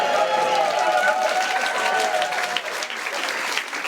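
A live audience at a comedy panel show bursts into loud, sustained applause and cheering. The clapping fills the whole moment and tapers only slightly toward the end, with voices mixed in.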